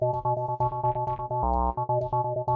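A bland synth run through a Sweeper VST dynamic filter plugin, its choppy, pulsing notes gated in a quick rhythm, with a brief sustained held tone in the middle.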